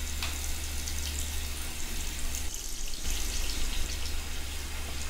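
Steady water runs from a tap into a sink during handwashing, a continuous hiss with a short dip midway and no talk over it.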